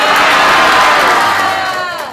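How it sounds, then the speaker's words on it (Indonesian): A roomful of women and men at an indoor gathering let out a loud, sustained enthusiastic cheer that swells and then tapers off, with scattered shouts near the end. "Mana teriakan semangatnya?"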